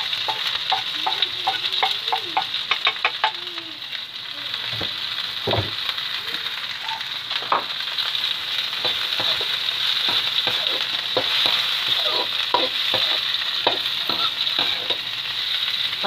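Bird's eye chilies, green chilies and green onion stir-fried with mushroom and carrot in a pan sizzle steadily, broken by repeated scraping and clattering of a spatula stirring, close and loud.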